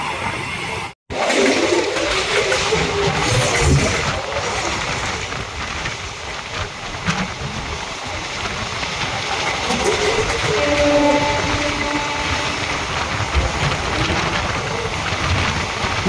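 The Chengalpattu–Kakinada Circar Express rolls slowly along the track, giving a steady loud rumble with faint rhythmic clatter from the wheels, continuous and close, with no voices.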